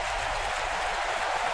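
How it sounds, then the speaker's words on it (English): Gator fans applauding in a packed football stadium during a Florida vs Georgia game, a steady, broad wash of distant clapping and crowd noise with no break. "And the Gator fans applauding"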